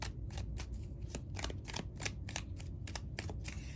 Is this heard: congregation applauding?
no